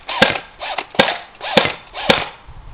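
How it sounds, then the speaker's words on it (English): An airsoft G36C rifle firing single shots at a silver ball target: four sharp, loud, close cracks spaced about half a second apart, each with a brief mechanical rattle. "Okay, now we're shooting at the silver ball."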